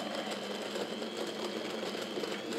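Electric mixer or blender whirring steadily while blending ingredients that include almond, a continuous close, even motor drone with no breaks.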